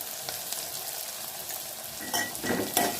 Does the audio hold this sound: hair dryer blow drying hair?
no